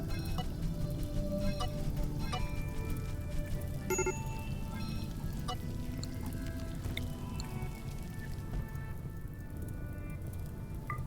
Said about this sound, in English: Hopefully the auto rain will kick in and